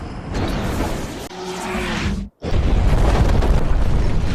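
Bombs detonate in a Top Gun: Maverick film scene, a loud, dense rumbling explosion roaring continuously, cut briefly by near-silence before a second heavy blast surges back.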